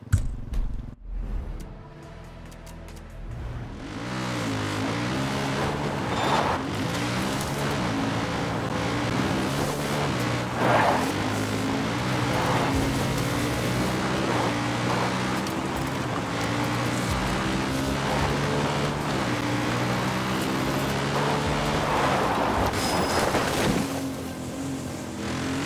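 Far Cry New Dawn vehicle engine droning steadily at driving speed for over twenty seconds, a continuous rumbling hum with shifting tone as it accelerates, after a brief quieter start.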